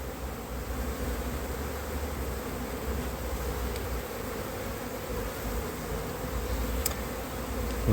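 Honeybees buzz on a hive frame of newly emerging bees: a dense, even drone close by that holds steady and unbroken throughout.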